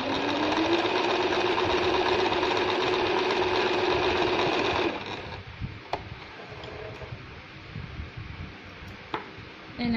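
A Singer Merritt Libero sewing machine runs steadily for about five seconds as it stitches a faux overlock edge along the fabric margin, then stops. A few faint clicks and handling noises follow.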